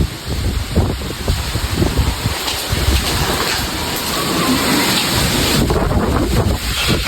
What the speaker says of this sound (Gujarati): વાવાઝોડા જેવું થઈ ગયું જો